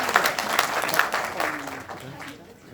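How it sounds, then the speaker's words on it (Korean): An audience at a university ceremony applauds for a student receiving a commendation at a regional campus event, a dense wash of clapping that slowly thins and fades out. "큰 박수 부탁드립니다."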